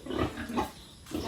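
Pigs on a farm grunt and oink in a few short, close bursts, with no talk.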